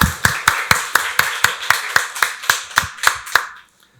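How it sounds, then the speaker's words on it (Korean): A congregation at a Korean church service claps in unison, about a dozen sharp, evenly spaced claps in a steady rhythm that stop abruptly. "박수로 하나님께 영광 돌리겠습니다"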